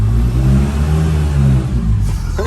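A mini truck engine revs hard and accelerates, a loud steady mid-pitched drone with strong low rumble that holds throughout, slightly easing near the end.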